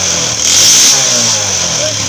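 A motorcycle engine idles and is briefly revved up, rising then settling back, heard close with a voice talking over it.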